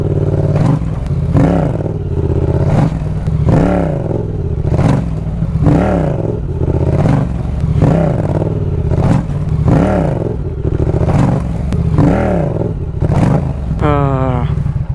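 Yamaha MT motorcycle engine revved repeatedly, roughly ten rising and falling throttle blips in a steady rhythm, close and loud, ending with a quick high whine.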